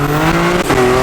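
BMW G80 M3 engine revving hard, a loud close roar with a rising pitch that dips briefly as it shifts, then climbs again, with some tire noise under it.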